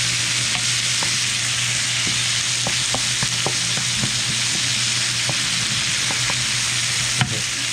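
Garlic, onion and green peppers sizzle steadily in a pan, a loud continuous frying hiss broken by occasional stirring clicks and scrapes, with no voices.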